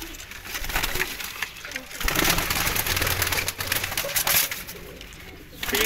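Pigeons coo in a steady, low murmur across the whole stretch, close by and fairly loud, with occasional faint chatter in the background.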